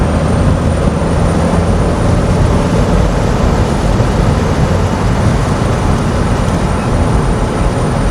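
A car accelerates hard out of a corner on a road time-trial route near the French border, its engine producing a loud, steady, continuous roar with road and wind noise and no pauses.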